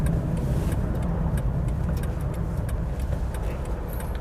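A Peugeot 505 GR eight-seater estate car drives along a road into Oxford, its steady low engine and road rumble continuous and close, with faint rattles over the drone.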